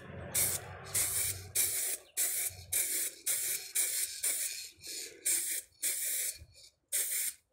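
An aerosol spray paint can hisses in about a dozen short, even bursts separated by brief pauses, each spray loud and close with no talking.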